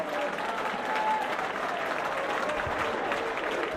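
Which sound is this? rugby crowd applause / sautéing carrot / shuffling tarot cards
rugby crowd applause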